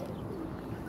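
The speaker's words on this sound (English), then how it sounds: "leave those dirty pigeons alone!" Pigeons coo on a New York City street, a soft low burbling that stays faint against steady traffic and city background noise.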